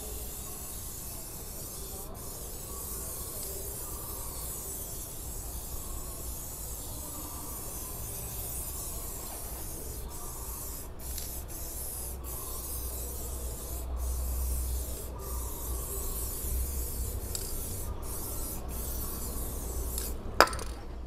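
Steady close hissing spray of cleaner onto the wheels of an Isuzu D-Max pickup, continuous and even for the whole stretch with a few faint clicks.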